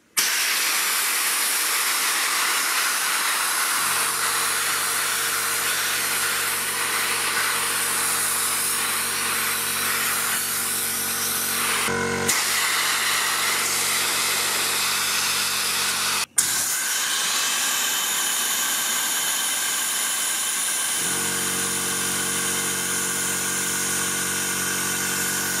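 A Parkside PDSB 10 pneumatic blow and suction gun in vacuum mode hisses loudly and continuously, with a steady mechanical hum switching on and off partway through and a couple of sharp clicks.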